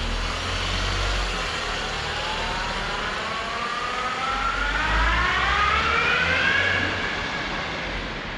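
A Volkswagen Golf engine running steadily as the car drives back and forward, with a rising whine climbing in pitch as it moves, continuous and fairly close, no talking.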